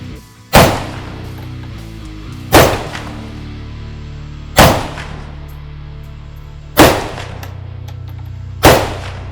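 A Ruger Mini 30 rifle fires five evenly spaced shots at a 50-yard range, each a sharp, loud crack with a short decaying echo, about two seconds apart.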